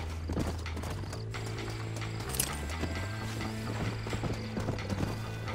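A horse in Red Dead Redemption plods along with clear, rhythmic clip-clop hoofbeats close by, accompanied by creaking tack and a brief snort, with no talking.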